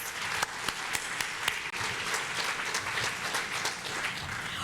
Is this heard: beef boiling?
no